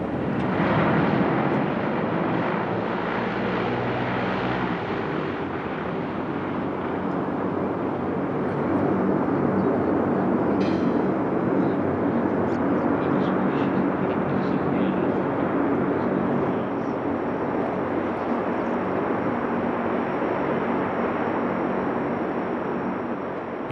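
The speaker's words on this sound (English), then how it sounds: "the sort of landing the Caribou frequently performed in what passed for runways in Vietnam" A Caribou transport aircraft makes a short landing at an RAAF air show. Its loud, steady engine and propeller roar fills the whole stretch at close range, with a rumbling rush that stays strong throughout.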